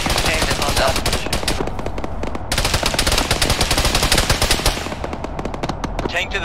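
Sustained machine gun fire from a tank in the Arma 3 video game rattles in dense rapid bursts, loud and continuous, with a short gap partway through and a taper at the end.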